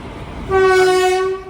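The Venkatadri Express passing near Chittoor sounds a loud, sustained horn blast partway through, over the low rumble of the moving train.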